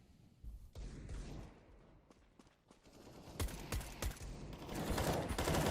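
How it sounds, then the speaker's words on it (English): Rapid bursts of spraying gunfire in the game CS:GO during a professional ESL Pro League match, coming in several clustered volleys that grow denser and louder toward the end, with no talk over them. "There's the spams from Plopsky, and he gets a second as well"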